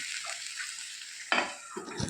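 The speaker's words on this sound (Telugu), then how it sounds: "అంతా ఒకసారి కలుపుకుందాము తాలింపు అంతా కూడా కాసరకాయలకు బాగా పట్టింది" Kasarakaya (Momordica cymbalaria) frying in a pan gives a faint background sizzle, then a couple of sharp stirring scrapes near the end, with no talking.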